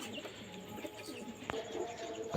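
Kaldam Nazra pigeons coo softly and steadily against a low background hiss, with a louder bump near the end.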